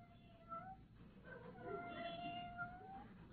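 Little kitten meowing at a screen door, several thin rising-and-falling cries at moderate distance, with a faint bed of background noise and no talking during the cries.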